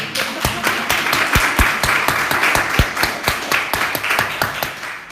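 Scattered applause from a church audience, irregular sharp claps at close range, uneven and sparse rather than a full ovation, with a voice briefly audible.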